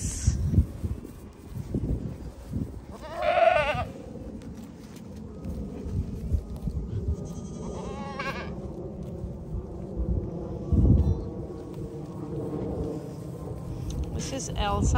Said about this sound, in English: She's my friendliest goat out of all the goats.